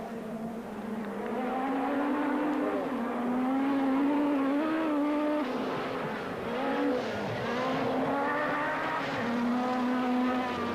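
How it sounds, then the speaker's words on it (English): A Lancia Group B rally car engine drones and rises and falls in pitch as it races past at the 1986 San Remo Rally, its note shifting through gear changes, heard from a moderate distance. "Right behind him, his rival for the World Championship, Marco Allen, in the Lancia."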